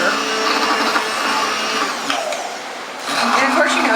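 A blender whirs steadily as it mixes homemade mayonnaise in a jar, a loud, continuous motor drone with a brief dip in pitch midway before it picks back up.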